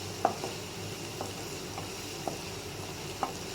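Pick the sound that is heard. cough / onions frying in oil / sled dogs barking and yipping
onions frying in oil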